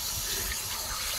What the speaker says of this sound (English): taking a drink out of the water faucet